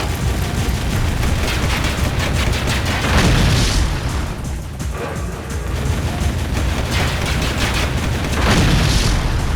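Gunfire in the game Jak II hammers a machine at a power station, producing dense, loud, booming blasts that roll on continuously with heavier surges throughout.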